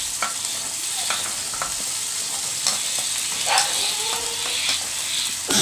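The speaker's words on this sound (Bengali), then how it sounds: "আলু সব দেওয়া হয়ে গেলে ভালো করে নাড়তে নাড়তে" Potatoes and prawns are stirred in a frying pan over a soft continuous sizzle, with a spatula scraping and clicking in irregular strokes close by.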